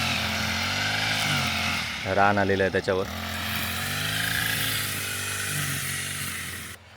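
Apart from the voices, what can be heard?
grass cutter running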